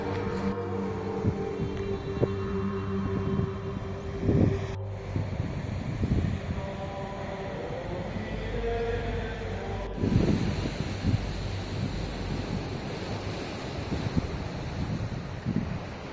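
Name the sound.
strong ocean waves at Pusan Point, Caraga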